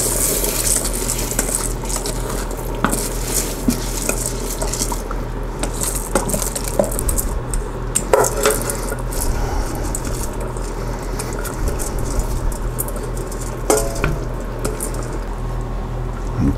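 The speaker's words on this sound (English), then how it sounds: "Now we're going to add our rice." Rice poured into a pot of rolling-boiling water with tomato paste for Spanish-style pigeon peas and rice, giving a soft watery bubbling with light clinks and scattered splashes, steady and close, with no talking.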